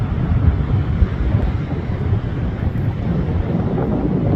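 Strong wind buffets the microphone in a constant low roar, loud and unbroken throughout, with no voices.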